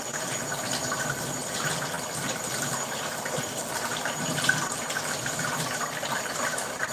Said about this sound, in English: Bro's washing the sins off that knife